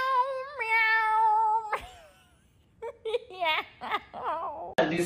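A person imitates a cat's meow several times, drawn-out and tonal, with short pauses between the calls.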